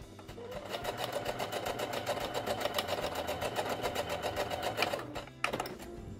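A Singer SE9185 sewing machine stitching steadily with its thread tension reset to between 2 and 6, a fast, even mechanical rattle running close and continuous for about five seconds before stopping with a couple of soft clicks.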